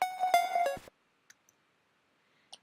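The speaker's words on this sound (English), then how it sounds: "that adds kind of a tape stock effect to the pluck" A short harmonic synth pluck phrase that abruptly drops and cuts off, like a tape stop, followed by near silence with a few faint clicks.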